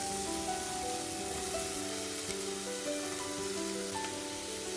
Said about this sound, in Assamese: এতিয়া তেল নিদিয়াকৈ শুকান কেৰাহীটোত মই মাংসখিনি ভাজিম।